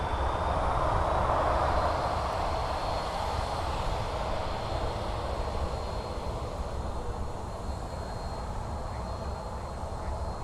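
Airliner climbing out from Birmingham Airport, a loud, broad jet engine roar that stays steady and close throughout, fading only slightly toward the end, with no talk over it.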